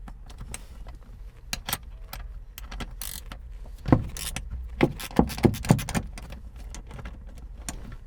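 A size 10 gear wrench ratchets on the rear seat bolts of a Honda Civic, making irregular sharp metallic clicks and clanks that cluster in the middle over a low, steady background rumble.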